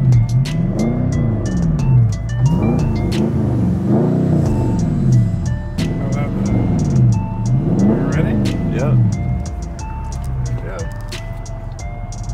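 A Dodge Scat Pack's engine revs in repeated rising and falling sweeps, loud and close, with tires burning rubber and people talking and shouting over it.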